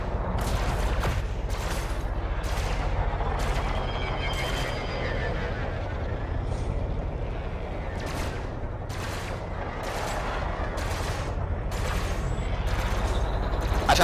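Backward-firing lasers from a ship in Elite: Dangerous, a series of sharp repeated bursts spaced irregularly over a continuous engine and thruster roar.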